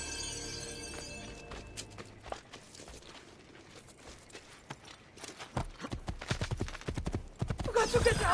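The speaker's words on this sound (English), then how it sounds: "I think she's talking about riding a horse." Horse hooves clip-clop in an uneven walking rhythm in the video game Assassin's Creed II, growing louder and busier toward the end, with a faint tonal game backdrop.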